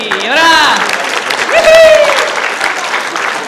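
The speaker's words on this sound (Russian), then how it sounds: "И аплодисменты!" Applause from an audience at a self-improvement workshop on procrastination, broad steady clapping with voices cheering and calling out over it throughout.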